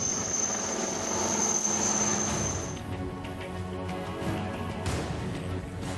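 Army helicopters fly over a search operation for militants, giving a steady, fairly distant rotor and engine drone that rises and falls a little over several seconds.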